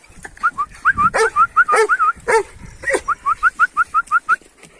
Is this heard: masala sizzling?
no